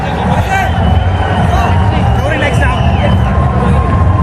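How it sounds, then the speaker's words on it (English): A home crowd at a T20 cricket match makes a loud, sustained roar of cheering and babble that stays steady from start to finish. "A wonderful reception here from the home crowd."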